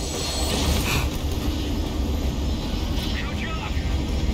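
Airplane flying in the video game Call of Duty: Advanced Warfare, a loud, steady engine roar filling the whole stretch under a voice.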